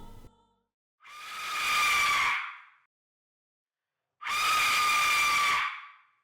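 An Aztec death whistle sounds two long, eerie, shrieking blasts with a hissing, scream-like tone, each swelling for about a second and a half and separated by a pause, clear and alone.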